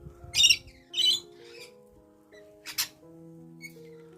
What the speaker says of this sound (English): Hand feeding ducks.